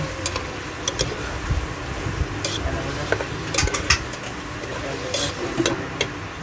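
Chicken stir-frying for tinola in a pot, a constant sizzle under repeated scraping and clinking of a utensil against the metal, close and steady.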